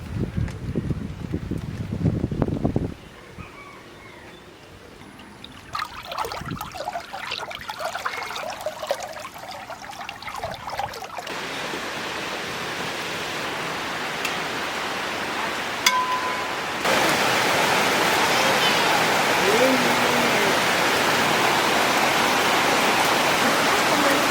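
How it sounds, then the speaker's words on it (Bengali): Light rain falls steadily outdoors under a cloudy sky after days of continuous rain, a soft broadband patter that thickens into a denser, louder wash partway through, with no voices. "চার দিন থেকে বৃষ্টি একদম কমেনি এখন হালকা ছিপছিপ করে পড়ছে"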